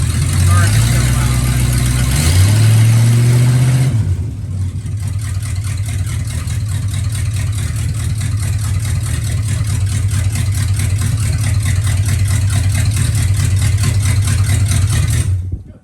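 A 1972 Chrysler Imperial engine, back running after sitting for 41 years, drones loud and steady close by during a rear brake test, with a brief rising rev at the start before settling into an even idle.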